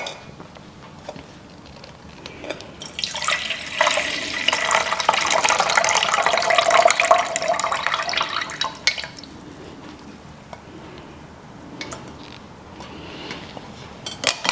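Brown homemade hair-growth liquid made from fenugreek and cooked rice is strained into a cup, a trickling pour that swells for several seconds and then tapers into scattered drips, close and fairly quiet.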